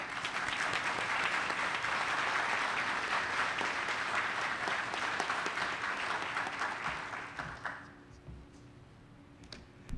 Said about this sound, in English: Please applaud as I introduce Representative Herschel Craig